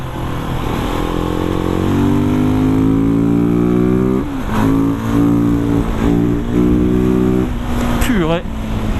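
A Husqvarna 701 supermoto single-cylinder motorcycle accelerates loudly and close, its engine note rising in several pulls and dropping between gear changes, with wind rush all the way through.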